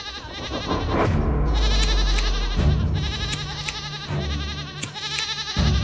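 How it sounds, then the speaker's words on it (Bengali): A goat bleating at night from a village cattle shed, several loud, wavering cries in close succession, near and insistent, set against an eerie musical backdrop. "এত রাতে ছাগলের চিৎকার কেন?"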